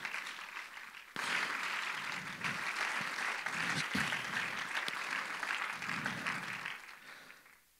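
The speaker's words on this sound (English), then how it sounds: "We can give God a clap offering in here." Congregation in church giving a clap offering: sustained, dense applause starts abruptly, holds steady at full strength for several seconds, then tapers off at the end, with faint voices underneath.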